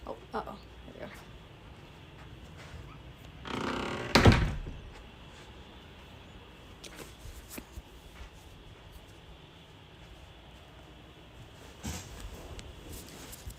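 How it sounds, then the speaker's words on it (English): A door swings shut in a home kitchen with a brief rushing sweep and a solid thunk near the middle, followed by quieter household knocks and another soft bump later. "I'll close the door."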